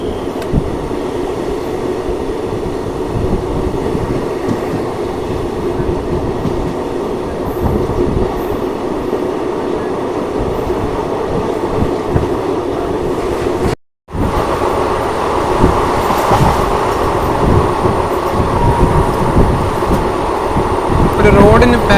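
The Thiruvananthapuram Central Express pulling away from Vadakara railway station, heard from inside the carriage as a loud continuous rumble and rattle of wheels on track, broken by one brief dropout, with faint voices underneath.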